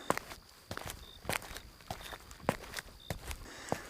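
Footsteps walking toward a deserted cremation ground at midnight in a Bengali horror cartoon, an even series of close, crisp steps with no talking over them.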